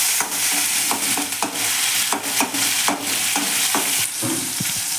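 A tomato sizzles steadily in hot oil, with frequent scraping and stirring clatters from a utensil in the pan, up close.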